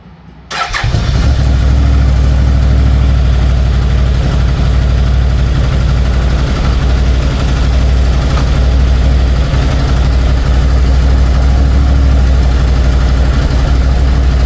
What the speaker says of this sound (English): I'm gonna put the plug back in and start the engine